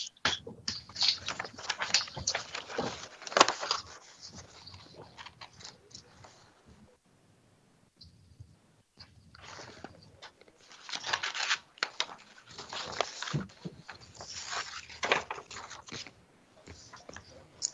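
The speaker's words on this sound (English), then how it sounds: "I hear lots of shuffling of paper" Paper being shuffled, crinkled and handled during a library board meeting, rustling in several bursts of varying loudness with quieter gaps between them, no clear talk.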